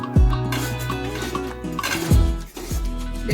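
Paneer masala gravy being stirred in a kadai with kasuri methi just sprinkled in, a spoon scraping and clanking against the metal pan in a few distinct strokes over a low steady background.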